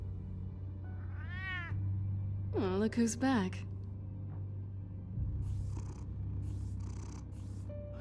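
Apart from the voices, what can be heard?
cat meowing and purring in Batman: The Telltale Series video game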